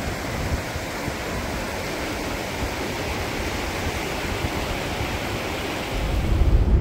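The Merced River in Yosemite rushes in a steady, broad roar, close and continuous, with a low rumble swelling near the end.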